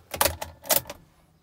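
A non-original key for a 2015 Chevrolet S10 LTZ 2.8 turbo diesel jingles as it is handled, with two short metallic jangling bursts close by and nothing else around them.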